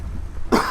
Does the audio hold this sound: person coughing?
yes